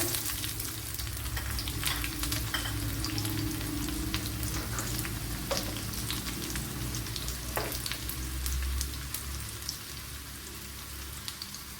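Shallots fry in coconut oil with popped mustard seeds, making a loud, continuous close sizzle with scattered sharp pops and crackles and no talking.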